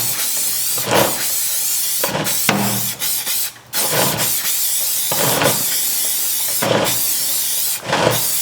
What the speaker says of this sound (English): I'm just going to spray a bit of tyre wax on